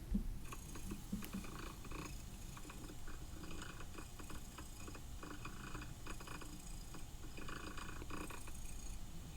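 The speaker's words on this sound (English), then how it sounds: "Y'all hear that purring sound?" A cat purrs loud and close, played back from an older iPad recording, a continuous low rhythmic rumble with slight mechanical-sounding pulses and no talking.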